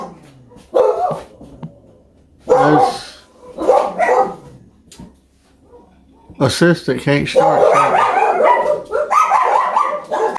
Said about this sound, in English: we had to pause it because our dog started barking